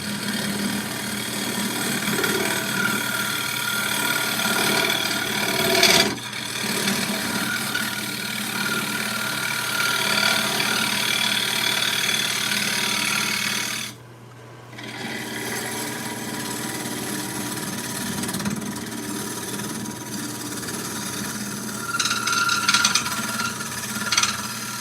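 A wood lathe spins a bowl blank while a carbide tool cuts into it, giving a steady motor hum with scraping texture, a short quieter dip midway and rattly bursts near the end.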